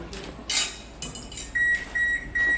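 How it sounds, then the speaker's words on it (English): An oven that has finished preheating in a home kitchen gives three short, clear beeps in a steady rhythm, after an earlier clatter of dishes and utensils. "that is the sound of the oven, which is ready"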